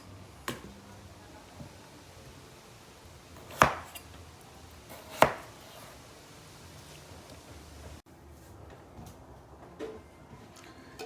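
Watermelon rind is chopped into pieces on a board with a knife, giving a few sharp, separate knocks spaced several seconds apart and fainter taps between them in a quiet room.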